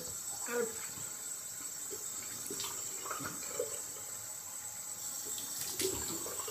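A tap runs a steady, quiet stream of cold water for a rinse after a straight-razor kamisori shave, with faint splashes and small clinks breaking the even hiss.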